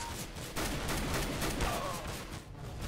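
Rapid gunfire in a CS:GO match fills the whole moment, a dense, loud volley of shots with no pause and no voices over it.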